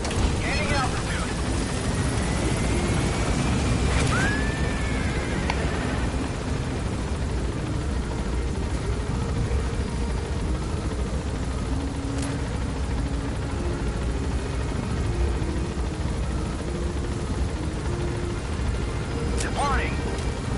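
Helicopter gaining altitude in Metal Gear Solid V: The Phantom Pain, a steady loud rotor and engine drone throughout, with a voice speaking over it and a few brief radio-like chirps.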